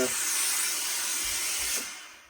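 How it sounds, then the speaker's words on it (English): Steam hisses steadily onto a Herbert Johnson fine fur felt fedora during hand restoration, a broad, fairly loud rush that thins and tapers off near the end. "So let's introduce a bit of steam."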